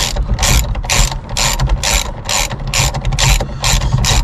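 A ratchet tightens the center bolt of a Volkswagen Golf Mk5 steering wheel, giving loud, close, rapid clicking bursts in a steady back-and-forth rhythm with no talking.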